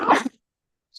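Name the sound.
sneeze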